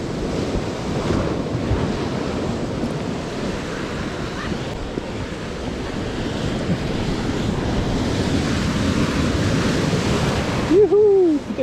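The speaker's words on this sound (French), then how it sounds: "il y a des vagues là" Ocean waves break steadily on the shore during bass fishing from the beach, a continuous loud surf roar with wind buffeting the microphone throughout, and a brief whistle-like squeal near the end.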